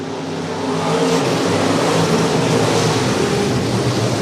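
Race cars roar around a short oval racetrack on the final lap, engine noise loud and steady throughout, swelling slightly after the first second as the field passes close.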